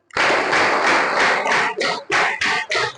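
A group claps the 'tepuk suhu kalor' pattern together: loud, close, sustained clapping that breaks into several short rhythmic bursts toward the end, with no talking over it.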